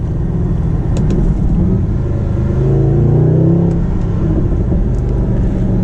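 A Mercedes SLS AMG engine holds a steady, throaty rumble at about 3,500 RPM, swelling slightly midway, loud and close with a faint whir on top.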